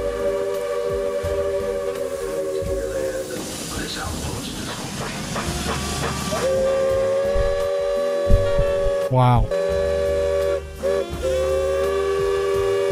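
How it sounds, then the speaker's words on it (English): A deep, multi-chime steam whistle blows long and loud with hissing steam, broken by short gaps, while people react briefly. "top 15 steam locomotive whistles"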